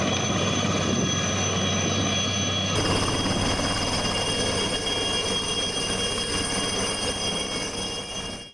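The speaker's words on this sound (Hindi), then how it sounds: "वायुसेना के हेलीकॉप्टर को इमरजेंसी लैंडिंग करवानी पड़ी थी" An air force helicopter on an emergency landing makes a loud, continuous mechanical roar with steady whining tones, close and unbroken, fading out at the very end.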